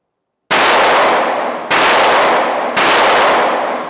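Backup handgun firing three loud, sharp shots about a second apart, each followed by a ringing decay, after a brief silence.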